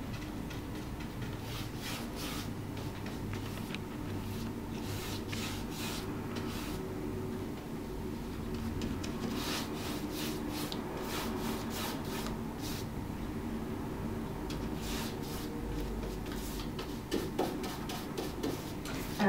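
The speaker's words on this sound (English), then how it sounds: "Nice thin coat rolled over the whole surface." Paint roller working chalk paint across a wooden surface, a quiet repeated rubbing and tacky ticking that rises and falls with each close stroke, steady and low in level.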